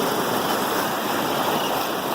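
Ocean surf rolls in at St. Pete beach, a loud, continuous broadband wash of breaking waves close by, with no voices over it.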